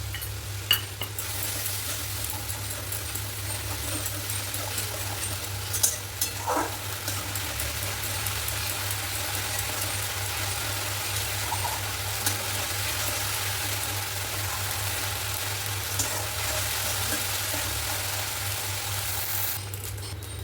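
Ginger, garlic and green chilli paste frying in hot oil in a pan for a papaya and rohu fish curry, a steady low sizzle running the whole time with a few faint clinks of a utensil.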